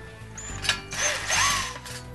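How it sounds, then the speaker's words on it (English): A ratchet clicks and turns as bolts are tightened on a golf cart trailer hitch and safety grab bar, close metallic mechanical ratcheting in short bursts. "Once we have all the bolts started, we want to go ahead and tighten it up."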